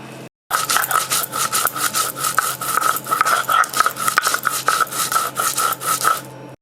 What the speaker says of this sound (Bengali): অল্প সর্ষে দেব এর সাথে দেব কয়েকটা গোলমরিচ এবার এই দুটো আমি একসাথে বেটে নেব